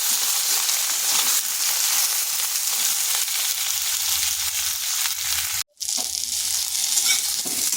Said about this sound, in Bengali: প্রথমে পটলগুলো হালকা ভেজে নেব